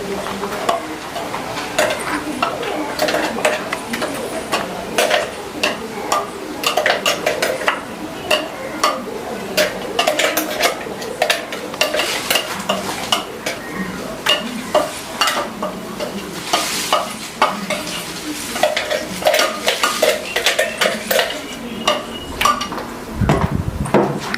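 A spoon scrapes and clatters against a pan in quick, repeated strokes, stirring green masala while it sizzles steadily underneath.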